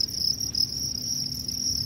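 Crickets chirp in a cricket farm, a dense, steady high-pitched trill that runs unbroken and loud throughout, with no voices.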